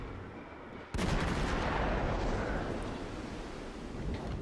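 Cruisers firing on a ship in the World of Warships video game: a sudden loud blast gives way to a sustained, roaring barrage of heavy gunfire that continues to the end, with no speech.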